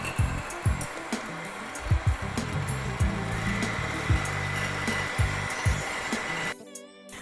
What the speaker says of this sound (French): On va maintenant monter nos blancs d'œufs en neige. Et pour que ce soit bien ferme, on ajoute une pincée de sel.